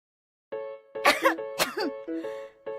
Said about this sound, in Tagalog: Ano ba naman tong ubo na to?